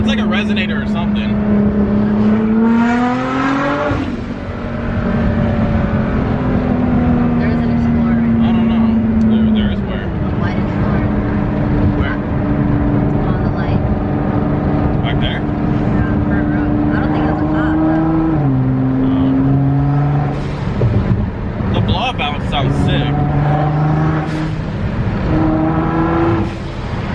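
A stanced car's exhaust revs in long, droning, trumpet-like blasts that rise and fall in pitch, loud and close throughout, with people talking over it.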